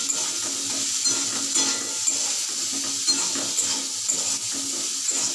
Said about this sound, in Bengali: এবার আমি গ্যাসের ফ্লেমটা কমিয়ে দেবো, দিয়ে এগুলো নাড়াচাড়া করতে থাকবো।